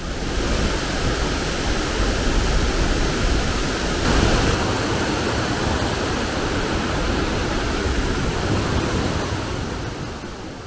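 A waterfall on the Kishtwar–Killar road roars as water drops from high up, a continuous loud rushing wash heard from a distance with no voices.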